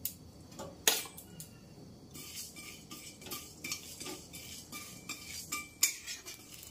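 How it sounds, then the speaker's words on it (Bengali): Whole coriander, cumin, cloves, black peppercorns, green cardamom and cinnamon dry-roasting in a dry kadai, with close, irregular metallic scrapes and clinks of a spoon stirring against the pan and a faint crackle underneath. "তো এই মশলাগুলো আমি ভেজে নেব, পুরো শুকনো কড়াতেই আমি ভাজবো।"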